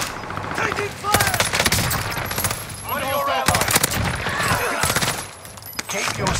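Bursts of automatic gunfire in the video game Call of Duty Warzone, played on Rebirth Island, rattle in dense clusters amid game effects and brief voice lines, loud and near throughout.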